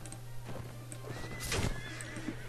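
Horses of horse archers in the video game Mount & Blade whinny loudly over a bed of clip-clopping hooves and a low steady hum, with one strong neigh in the middle.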